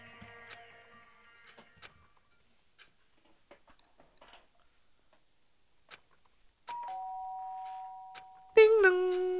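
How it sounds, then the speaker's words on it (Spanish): A doorbell chimes in the video game Danganronpa: one clear sustained tone, then a brighter second tone after a stretch of near-silence filled only with faint scattered ticks. "Ding dong."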